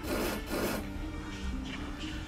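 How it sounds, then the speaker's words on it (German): Sawing in the Haunted Legends 11 puzzle adventure game: two quick rasping strokes at the start, then a fainter scraping rub, brief and close. "jetzt kann ich wahrscheinlich hier sägen"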